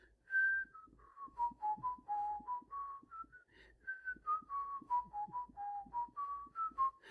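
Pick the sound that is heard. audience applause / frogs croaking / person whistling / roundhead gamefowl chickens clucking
person whistling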